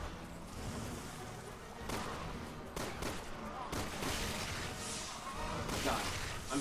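Gunfire from Resident Evil 6 zombie combat: repeated bursts of shots in a dense, busy game mix, with sharp transients scattered across the span under a continuous backdrop, while a voice speaks at times.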